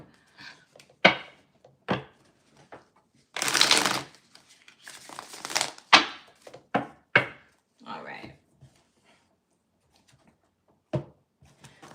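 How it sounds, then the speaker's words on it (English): Rider-Waite tarot cards riffled and shuffled in a series of sharp, close slaps and rustling bursts with quiet gaps between them, including a longer crisp riffle midway; no one speaks. "I'm going to do 1 shuffle for the Rider-Waite Tarot deck"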